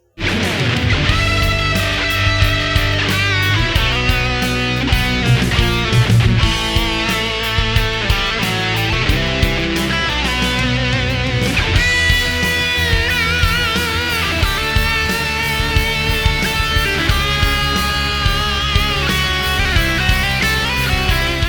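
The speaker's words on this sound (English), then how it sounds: "now let's look at our lead tone, which sounds like this" A distorted electric guitar plays a lead line, sustained and saturated, steady and loud throughout with no talking.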